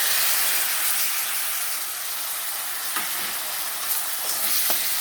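Ginger, garlic, green chilli, tomato and onion paste frying in hot oil for an egg dish, a steady hissing sizzle with a few soft stirring clicks and no voices.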